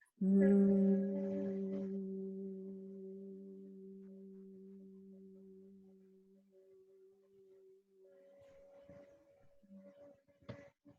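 A steady, sustained hum voiced on a long slow exhale during a calming breathing exercise, loud at first and fading gradually, followed by a second softer hum.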